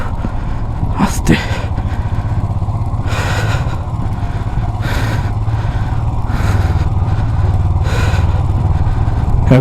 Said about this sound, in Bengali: এরকম জায়গা থেকে চালাতে হবে বাইক